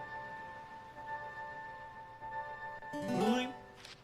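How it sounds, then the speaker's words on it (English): Save chime from a Zelda game, a short bright rising electronic flourish near the end over a quiet steady game backdrop. "It makes a really good saving sound in this game."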